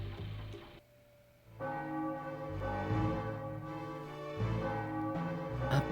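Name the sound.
bell ringing in the video game Final Fantasy IX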